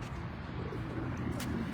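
Racing pigeons coo softly nearby in a loft, low murmuring calls running under a steady background rumble.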